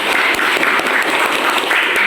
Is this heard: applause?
yes